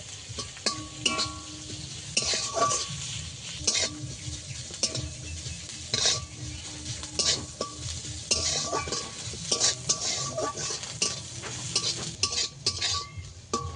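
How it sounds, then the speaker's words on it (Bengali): Onion frying in a pan with a utensil scraping and tapping against the metal again and again, over a constant soft sizzle, heard up close. "পেঁয়াজটাকে ভালোভাবে ভেজে নেব। পেঁয়াজ ভালো করে ভেজে নিতে হবে।"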